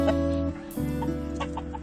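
Rooster clucking just outside a chicken coop, a short series of close, loud low clucks with a brief break partway.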